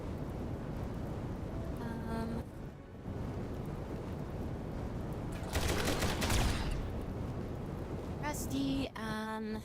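Gunfire crackles in the colony game Rimworld as a dense, continuous rattle of shots under a noisy, rain-like wash, with a louder burst of fire near the middle and short tonal game beeps now and then.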